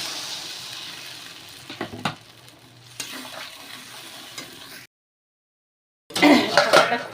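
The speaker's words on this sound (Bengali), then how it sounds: "নাড়াচাড়া করে আমি জল দিয়ে দেবো।" Snakehead (shol) fish curry in a pan being stirred with a utensil, then water poured in: clinks and scrapes of a spoon against metal over a faint sizzle, a brief pause, then a louder burst of splashing and bubbling.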